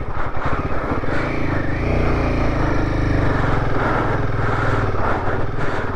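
A motorcycle engine strains and revs steadily while climbing a steep high-altitude road in North Sikkim toward Gurudongmar Lake, loud and close throughout with a rough, continuous drone.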